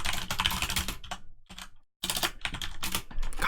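Code is typed on a computer keyboard in quick, clattering runs of keystrokes, with a short silent pause midway before the rapid tapping resumes.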